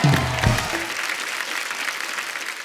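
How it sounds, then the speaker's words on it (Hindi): A studio audience on a Hindi comedy talk show claps loudly for the guests, a dense burst of applause that thins a little as it goes on. Some brief musical notes sound at the start. "एक बार जोरदार ताली हो जाए"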